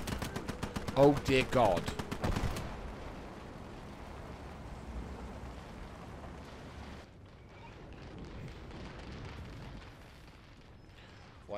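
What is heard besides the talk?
artillery fire in the video game Call to Arms Ostfront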